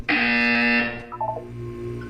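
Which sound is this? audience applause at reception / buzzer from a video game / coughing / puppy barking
buzzer from a video game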